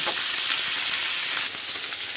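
Steady, dense sizzling of fish frying in hot oil on a tawa, a continuous crackling hiss close by with no voices.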